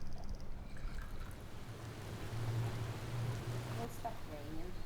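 Steady rain falling at a Maldives resort, a soft continuous hiss with faint dripping, low and even throughout with a low hum underneath.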